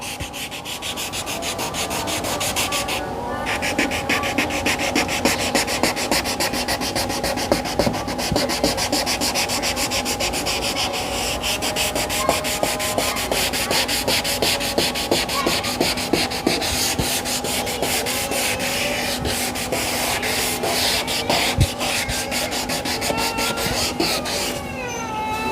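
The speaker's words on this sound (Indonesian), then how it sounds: "Untuk itu kita bisa mengulanginya sekali lagi menggunakan amplas" Yellowed car headlight lens being sanded by hand with 400-grit sandpaper, a continuous close, gritty rasping with quick rhythmic strokes throughout.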